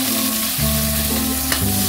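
Onions and tomatoes fry in a pan, giving a loud, steady sizzle with stirring noises throughout and no talking.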